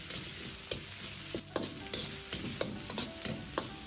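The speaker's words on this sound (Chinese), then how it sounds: "再倒入葱丁炒出香味" Diced scallions stir-fried in hot oil with Pixian chili bean paste in a wok, a steady low sizzle broken by regular, crisp scrapes and clicks of the spatula roughly twice a second, close up, no talk.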